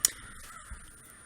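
A crow gives one sharp, loud caw outdoors at the start, then a few fainter bird sounds follow over a quiet background, with no speech.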